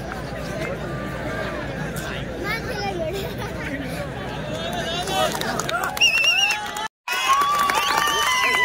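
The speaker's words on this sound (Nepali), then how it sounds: "सखर निकै ताली मारेका छन् यो अहिलेको प्रहारलाई" Crowd at a football match in Kalimpong murmurs, cheers and claps around the pitch, a dense mid-distance babble that swells with shouts and whistles toward the end, briefly cut by a gap.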